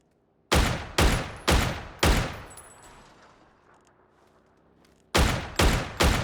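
In the video game PUBG, a P90 fires four rapid, loud shots that ring out and fade over a pause, then three more quick shots. No voices are heard.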